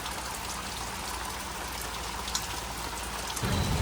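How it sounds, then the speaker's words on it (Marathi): Rain pouring steadily again in a village during the Gauri Ganpati festival, a dense even patter on surfaces all around, with a slight heavier rumble at the end. "आला परत पाऊस"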